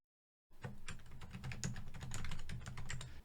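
A web address being typed on a computer keyboard, a rapid run of close, crisp key clicks starting after a short silence and continuing steadily to the end.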